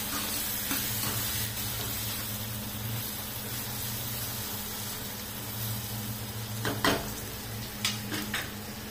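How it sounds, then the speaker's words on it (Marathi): Ingredients with red chili powder sauté in oil in a home kitchen pan, a steady broadband sizzle running throughout, with a few sharp spoon-against-pan scrapes near the end. "हे तेलामध्ये परतू द्यायचं"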